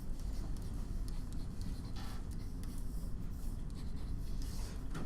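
A pen scratches steadily while writing out synthetic division by hand, a continuous faint scribbling over low room hum, with no talk.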